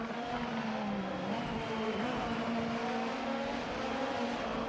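A pack of 26 race cars howls around Sepang circuit in a racing game, making a continuous loud engine roar with a sustained high whine and slight pitch shifts, no voices.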